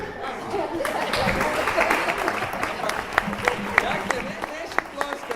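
Audience applause at a business seminar in Ljubljana, a room full of people clapping steadily, with individual claps growing sharper and sparser toward the end, under some talk.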